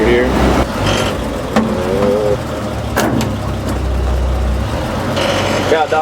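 A 1946 Dodge truck engine idles steadily with a low, even rumble, close and fairly loud, while voices speak over it now and then.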